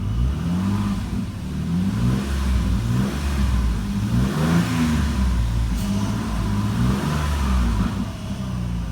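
A 2004 Jeep Liberty with 143,577 miles revs at a wrecking yard engine test, the engine rising and falling in steady smooth pulls for several seconds, close and loud with no talk.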